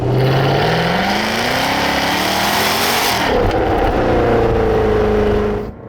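A Jaguar F-Type at full throttle in second gear on an empty road, its engine note climbing steadily in pitch as it pulls hard, loud and close, then dropping at a shift before surging again to the end.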